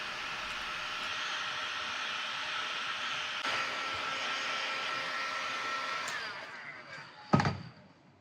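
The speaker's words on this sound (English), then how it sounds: "To get rid of the little scraps and crumbles inside, I use a heat gun." A heat gun blows steadily to dry clay scraps and crumbles inside a porcelain bowl being trimmed, making a loud, even whooshing roar that fades near the end before a sharp clunk.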